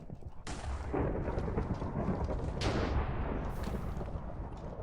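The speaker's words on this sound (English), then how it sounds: "if it hits a solid block, it does a lightning bolt" Lightning bolts in a modded Minecraft-style game crash twice as loud, rumbling thunder with a booming rolling tail, the second strike about two seconds after the first, with no talking.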